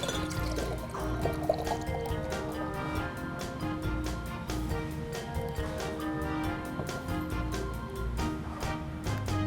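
Nitro rye stout pours and fizzes into a glass, with soft dripping and gurgling detail over a quiet background.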